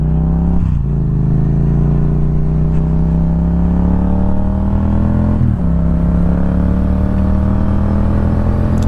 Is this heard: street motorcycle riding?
yes